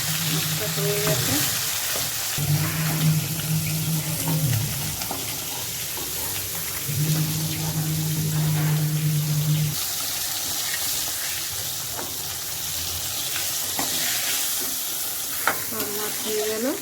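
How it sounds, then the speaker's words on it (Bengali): Silver carp fish fries in oil in a pan, a steady close sizzle and crackle with occasional stirring and scraping sounds over a constant bubbling hiss. "আমি এখন মাছ ভেজে নিচ্ছি।"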